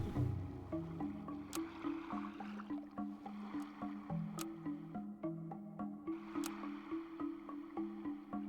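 A steady lapping, sloshing ocean-water ambience in the video game Super Auto Pets, rolling in soft repeating waves alongside a quiet tonal game melody, with no voices.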